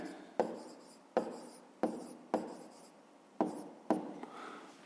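Pen writing math figures on paper, close and quiet: six short scratchy strokes come in an uneven rhythm, each starting with a sharp tap and trailing off in a soft scrape.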